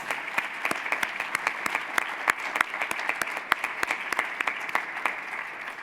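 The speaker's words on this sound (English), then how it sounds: "Let's give them one last round of applause." An audience at a college commencement ceremony applauds steadily, a dense sustained clapping with sharp individual claps standing out throughout.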